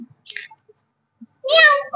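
A cat meows in a single drawn-out, wavering cry that rises and falls, heard close and clear, with a few faint scattered sounds and brief bits of voice before it.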